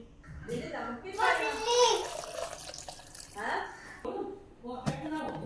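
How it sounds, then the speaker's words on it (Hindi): Two glasses of water splash into a juice jug holding pomegranate, beetroot and mint, heard as close bursts of pouring between stretches of someone talking. "और 2 गिलास पानी डालेंगे।"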